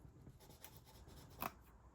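A popsicle stick rubs a Halloween spider-web rub-on transfer onto a paper card, giving soft, faint scratchy strokes with one brief louder scrape near the end, alone in a quiet room.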